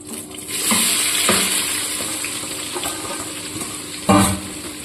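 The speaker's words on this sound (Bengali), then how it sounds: "একদম ভালো করে ভেজে নিই" Chopped onions sizzle steadily in hot oil with whole peppercorns and cinnamon, a loud continuous frying hiss close by, broken by occasional scrapes and stirring knocks of a spoon in the pan.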